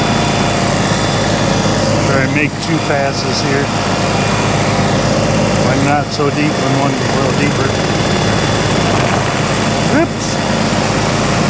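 A buggy's engine runs steadily on a rough road, with bumps and jolts breaking in as it crosses holes, the engine nearly stalling at one point; someone talks over it.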